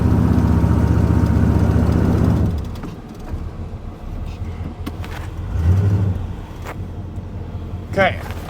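A truck engine idles loudly and steadily while the truck is tested for articulation and traction off-road near a ditch. The engine then drops to a lower rumble, with brief clunks and a short revving swell.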